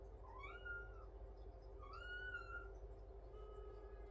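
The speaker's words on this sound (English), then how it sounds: "There's a cat right there." A cat meows twice in drawn-out, rising calls, with a fainter third cry near the end, over a steady low hum; fairly close and clear.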